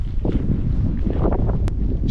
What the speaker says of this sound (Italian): C'è molto vento, che però porta anche fresco